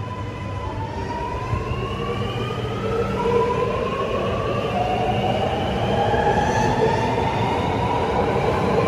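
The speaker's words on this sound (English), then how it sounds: "we have an Alston Metropolitan now departing from platform number 2," An Alstom Metropolis metro train pulls out of platform 2 at Cherrybrook Station on a tunnel service, its motors whining in rising tones over a steady rumble that slowly builds, with no talk.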